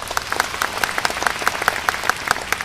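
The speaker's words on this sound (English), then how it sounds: "Give yourself a big round of applause." A convention audience claps steadily, individual hand claps clearly audible in a quick, even patter that carries on throughout without pause.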